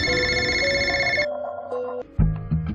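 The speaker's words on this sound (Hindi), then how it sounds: "परेशानी वाली हालत में अपने दोस्त ऋषि को फोन करने लगा।" A telephone bell rings steadily for about a second, then stops, followed by a few short electronic tones and clicks.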